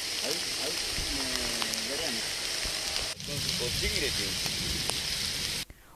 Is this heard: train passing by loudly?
no